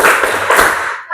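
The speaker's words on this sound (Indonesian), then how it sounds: "Satu kali lagi ya. Tepuk prestasi." A classroom of Indonesian students claps together in a brief burst of rhythmic applause for a praise clap chant, dense and close for about a second before stopping.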